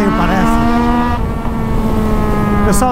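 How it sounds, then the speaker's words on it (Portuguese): A four-cylinder motorcycle engine, a Kawasaki Z900, revving with a steady, rising harmonic whine, loud and close, briefly dipping before holding high revs. "a quatro cilindros fala um pouco mais alta."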